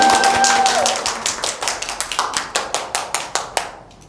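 A classroom group claps for students after a presentation: a dense burst of applause that quickly thins into a sparse run of single, evenly spaced claps before stopping.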